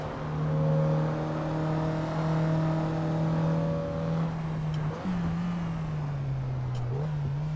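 A racing car engine in the Assetto Corsa simulator holds a loud, steady drone, then drops in pitch with a quick blip on the downshift to second gear and settles again, with no talk over it.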